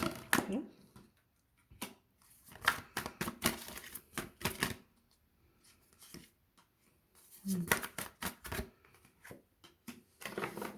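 Tarot cards being shuffled close up, with quick bursts of riffling and flicking separated by short pauses, fairly faint and soft.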